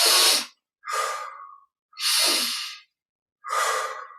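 Four deep, forceful breaths during a guided Yogoda energization meditation, alternating long airy inhales and exhales with short silent gaps between them, loud and close.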